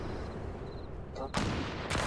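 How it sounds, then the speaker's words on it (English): Gunfire in the video game Fortnite: a faint, steady background din, then two sharp, loud shots about half a second apart, the second trailing into a heavier burst. "What's he shooting at?"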